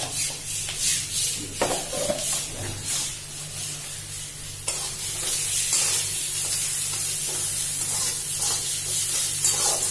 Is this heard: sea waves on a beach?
no